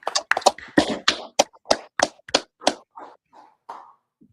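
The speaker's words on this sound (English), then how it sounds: "Y'all clap it up" A small class audience gives scattered hand claps, about a dozen sharp slaps close by that start brisk and thin out into a few last claps.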